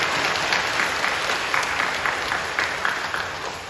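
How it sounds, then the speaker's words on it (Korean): Steady applause from a church congregation during a worship service, dense sustained clapping that fills the space evenly at a loud level, no voices rising above it. "박수를 넘겨주시죠."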